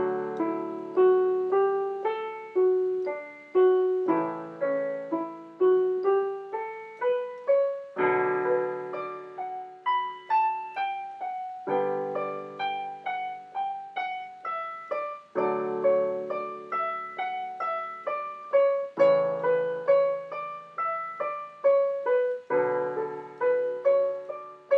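A piano improvises at level three, a lively solo of repeated rhythmic phrases with clear struck notes and chords, steady and moderately loud with no talking.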